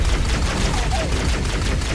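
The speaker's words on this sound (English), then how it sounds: "Oh shit, grenade!" A grenade goes off in Halo: Combat Evolved, a loud, dense rumbling blast that fills the whole moment with crackling noise and no break.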